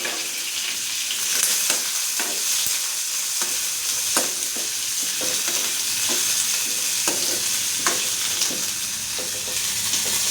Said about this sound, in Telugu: ఇప్పుడు ఇదే ఆయిల్లో ఆనియన్ వేసేసుకుందాం